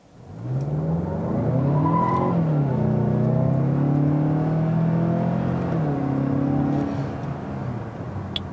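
A 2018 Mazda6 2.5T pulls away from a stop at full throttle with traction control off, its turbocharged engine rising in a loud, steady drone that climbs through the revs for several seconds, close and without talk.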